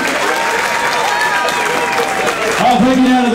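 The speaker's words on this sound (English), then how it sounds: "give these two fighters a big round of applause" A crowd applauds and cheers for two fighters at a fight event, dense sustained clapping close and loud, with voices shouting over the noise and a rising yell near the end.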